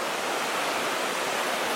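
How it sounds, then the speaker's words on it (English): The Little Qualicum River flows near its source at Cameron Lake on a crisp March morning, making a steady, even rush of water. The sound holds without a pause, with no voices over it. "the Little Qualicum River. Very close to its source at Cameron Lake."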